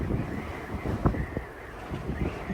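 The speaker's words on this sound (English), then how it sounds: "Do you think it's windy here?" Gusty wind buffets the microphone from outside a vehicle on a road trip near Longmont, Colorado, a continuous low rushing roar with a few sharp thumps and no speech.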